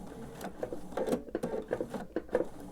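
A sewing machine slowly stitching binding onto a quilt, heard as soft, uneven bursts of needle patter close by and fairly quiet.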